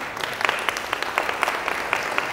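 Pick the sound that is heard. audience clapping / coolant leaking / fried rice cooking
audience clapping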